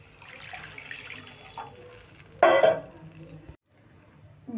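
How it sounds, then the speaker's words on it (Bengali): Water poured from a bowl onto semolina, a low background bustle followed by a sudden loud splashing pour that cuts off abruptly. "আরও 1 বাটি জল দিয়ে দিচ্ছি।"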